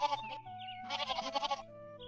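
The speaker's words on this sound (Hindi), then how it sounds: "मंत्री 10 बकरियों को ले जाकर गजराज के जंगल में दे आता है" Goats bleat in a cartoon story, a short bleat followed by a longer, wavering, nasal call with a quivering tremolo, fairly close against a quiet background.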